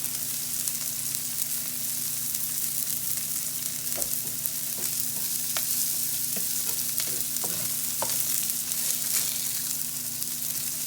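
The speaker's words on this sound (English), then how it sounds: "I don't know if you like sauteed onions like I do, but I think it makes the burger." Onions sauté for a garlic and onion burger, giving a steady close sizzle and fry hiss throughout, with a few light clicks and stirring scrapes from the pan and no talking.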